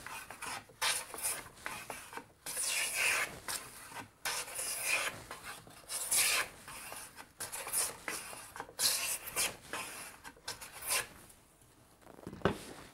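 A hand bench plane takes shavings off a wooden workpiece in a steady run of brisk, rasping strokes, close up and continuous, with brief pauses between passes.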